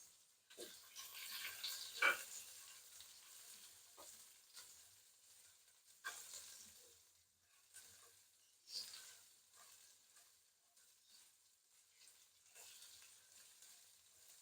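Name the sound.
garlic and ginger frying in a pan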